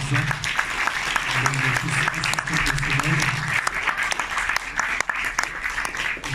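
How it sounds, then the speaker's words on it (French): Audience at the Forum des images applauding after a masterlab presentation, a sustained wash of many hands clapping with sharp individual claps standing out, while a voice talks underneath for the first half. "je pense qu'on peut à nouveau vous applaudir"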